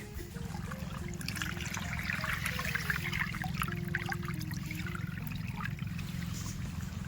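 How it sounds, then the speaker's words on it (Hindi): Irrigation water flowing steadily through a sugarcane field, a continuous close gurgling trickle and rush with a faint tonal hum underneath, no talking. "किस तरीके से पानी जा रहा है।"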